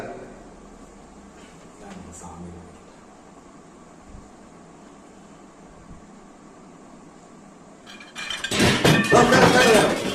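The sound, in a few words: metal vessels clinking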